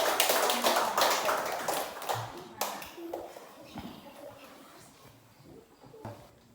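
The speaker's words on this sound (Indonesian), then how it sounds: "tepuk tangan buat kelompok" A school class claps for a student group after a presentation, a loud burst of hand claps that thins into scattered taps and fades, with children's voices faintly underneath.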